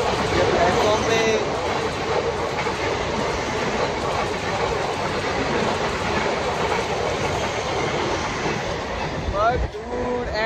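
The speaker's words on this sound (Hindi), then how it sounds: "फिर से ट्रेन आ चुकी है" A train pulls into a busy Mumbai station platform, its wheels clattering in steady clickety-clack rhythm with a brief metallic squeal near the end, loud and close, while people talk nearby.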